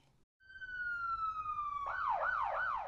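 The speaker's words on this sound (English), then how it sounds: "One black police car." A police car siren starts with a long steady wail, then switches to a rapid rising and falling yelp, loud and close with no talking.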